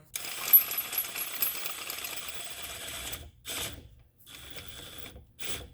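Ratcheting and tightening of a nut during a wheel bearing press-in replacement on a 2014 Toyota Venza: a dense clicking, mechanical run for about three seconds, then short separate bursts of clicks with brief pauses between, close and fairly loud.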